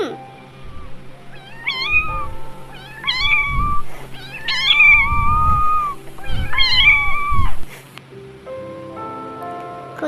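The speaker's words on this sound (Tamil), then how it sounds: "பூனை கத்தும்." A cat meows repeatedly, four or five drawn-out rising and falling calls close by and fairly loud, with soft rustling and low thumps underneath between them.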